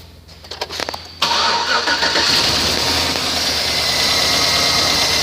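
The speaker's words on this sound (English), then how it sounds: "2006 Chevy Suburban, mileage 193, 242." A 2006 Chevrolet Suburban with about 193,000 miles cranks with a stuttering starter whir for about a second, then catches and settles into a loud, steady close idle.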